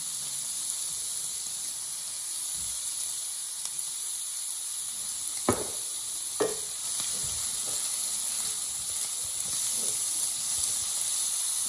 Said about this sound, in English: Stir it, give it a good stir